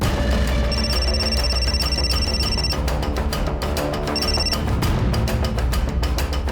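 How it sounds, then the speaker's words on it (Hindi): A telephone rings steadily while a call is being placed in a home, with repeated ring bursts over a dense, continuous background; the rings are clear and loud throughout. "आप तो बस मौसा जी को फोन लगा रही हो ना"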